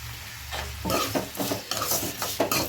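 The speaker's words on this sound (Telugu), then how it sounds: "ఇది కూడా బాగా కాసేపు కలిపి మళ్ళీ మూత పెట్టుకున్నాం." Tomatoes and soaked tamarind stirred in a pan for peanut chutney, a spoon scraping and clinking in quick repeated strokes against the pan over a soft sizzle, close and fairly loud, with no talking.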